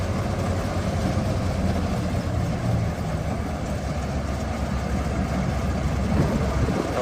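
A John Deere 6620 Titan II SH combine's engine runs steadily at revs, a continuous low rumbling drone with no breaks, close and fairly loud.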